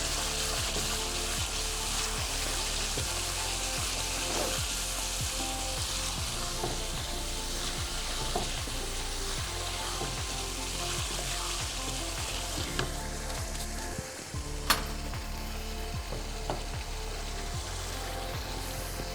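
Minced meat (keema) fries in a pan with a steady, even sizzle and soft bubbling under a low rhythmic background hum. A single sharp clink comes midway.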